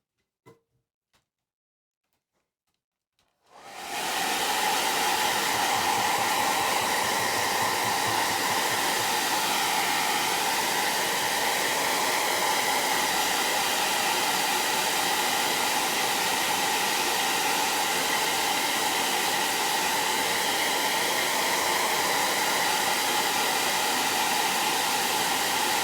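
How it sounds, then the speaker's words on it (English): A hair dryer blows on a freshly painted stencilled pumpkin, starting abruptly after a few seconds of near silence and then running as a steady, loud, close whoosh without a break for the rest of the clip, with no voices. "let me go ahead and blow dry this"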